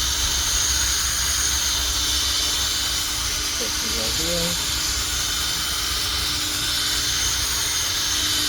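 A headlight lens being sanded with 3000-grit abrasive gives a continuous, even hissing grind that stays level the whole time, with brief speech partway through.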